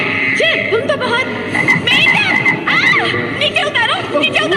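Frogs croaking in a Power Rangers Mystic Force episode, a loud busy chorus of chirping, warbling croaks overlapping throughout, with other voices mixed in.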